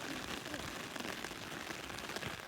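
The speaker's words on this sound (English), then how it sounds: "It's really raining on the side." Rain falls steadily on surfaces during an outdoor walk, a constant dense patter at moderate volume throughout, with no speech.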